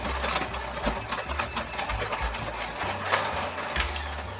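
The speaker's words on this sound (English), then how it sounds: "I'm going to mix that, cream it, using my little hand mixer" Electric hand mixer creaming cold, firm butter, a steady close motorized whir with uneven knocking and wobbling as the beaters push through the stiff butter, no talking.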